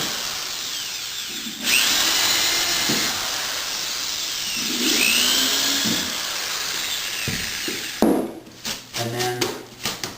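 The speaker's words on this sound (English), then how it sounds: "You're supposed to pre-drill, which I'll do right now, pre-drill holes." A power drill whines loudly in two sustained bursts, rising and winding down, pre-drilling holes in a hardwood floorboard, followed by short knocking and handling noises up close.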